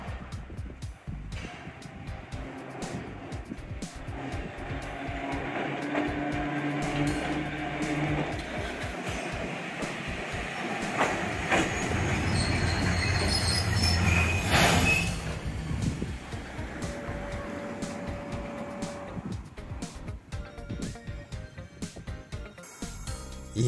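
A tram rumbles closer along street rails, its wheels squealing and brakes hissing as it passes, with traffic noise around it.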